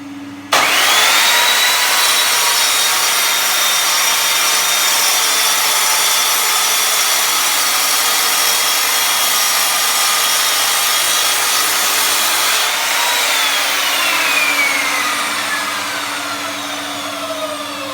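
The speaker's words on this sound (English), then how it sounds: "Now I think we all know it's going to cut the brick, but I'm going to cut it just in case." An Evolution Rage3-S sliding compound mitre saw cuts through a brick, a loud, sustained high-pitched whine and grinding drone that starts abruptly, holds steady for about twelve seconds, then winds down as the blade spins to a stop.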